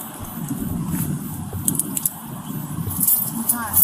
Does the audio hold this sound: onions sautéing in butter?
no